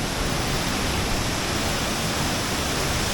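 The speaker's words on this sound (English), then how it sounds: "So this is the waterfall," Cane River Falls in Jamaica roars as a steady, dense rush of falling water, close and constant with no breaks and no voices.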